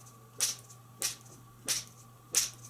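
A BLACK HOLE GF fishing rod swished sharply through the air with a wrist flick, four evenly spaced whooshing swipes, close and crisp, with no voices.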